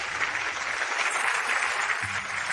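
Fashion show audience applauding the collection's designer: a brief, even burst of dense clapping from a crowd, steady and moderately loud, with a low murmur underneath.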